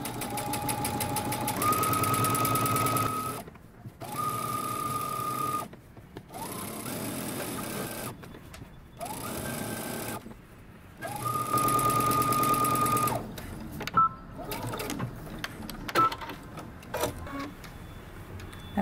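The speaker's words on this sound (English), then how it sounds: "And we're going to stitch close to the edge as far in as you can get." Sewing machine understitching a facing close to the fabric edge, several bursts of fast, steady motor whirring separated by short pauses, close and clear.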